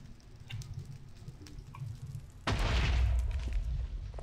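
A block of TNT explodes in Minecraft, a sudden deep booming blast midway through that rumbles and decays slowly, after quieter in-game ambience.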